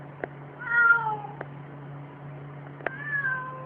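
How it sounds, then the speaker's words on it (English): Two drawn-out cat meows, the first near one second and another near the end, with small clicks between them over a steady low hum. "You don't know why this cat is barking, but it's barking."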